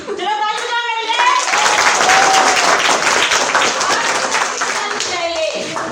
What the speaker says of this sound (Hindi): चलो ताली बजाओ मेरे लिए।